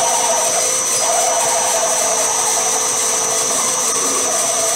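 A loud, steady whine of a lathe drilling into metal, continuous and unbroken with a high-pitched tone, close up and with no talking.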